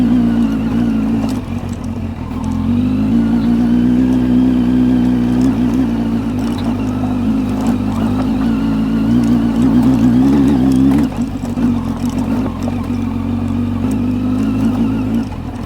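A Kawasaki Z900 motorcycle engine labours steadily as the bike climbs an off-road trail near Japali Temple in Tirumala, a loud, close, sustained low drone with slight rises in revs and a brief dip near the end.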